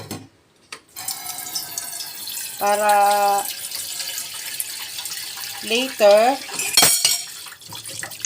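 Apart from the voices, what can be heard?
tap water running to soak vegetables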